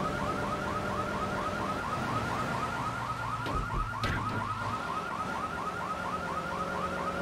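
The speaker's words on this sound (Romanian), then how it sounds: "Mai e și alarme acum." Car alarm in the video game GTA 3 Definitive Edition, a steady looping electronic whoop that cycles continuously at constant loudness, with a brief thud partway through.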